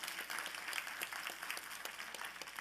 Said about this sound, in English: Y'all can clap again